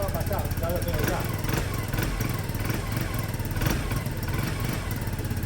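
A repaired Peugeot Satelis scooter engine runs at a steady, unrevved idle on automatic choke, loud and close with a continuous rough drone throughout, while people talk over it.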